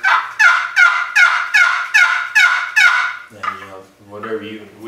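Turkey gobbles worked on a wooden paddle call, a rapid series of about eight loud, evenly spaced rattling yelps, followed by two lower, rougher honking notes.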